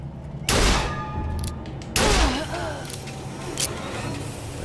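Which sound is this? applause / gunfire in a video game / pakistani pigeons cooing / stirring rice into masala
gunfire in a video game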